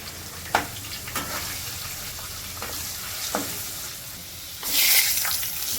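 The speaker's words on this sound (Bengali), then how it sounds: "তেল দেওয়ার পরে আলুটা ভেজে নেবো।" Salted, turmeric-dusted potatoes fry in oil in a wok for a Bengali chicken curry, a constant sizzle broken by sharp stirring clacks and a brief burst of louder spitting near the end.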